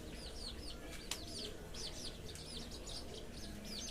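Tiny Serama chicks, the smallest chicken breed, at home give rapid, high, repeated peeping chirps that sound close but soft, with a steady low background hum and no speech.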